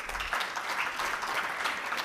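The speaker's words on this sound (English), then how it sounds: "Can you please clap for yourselves?" A summit audience claps for itself, many hands applauding in a steady, fairly loud wash with faint rhythmic swells and no break.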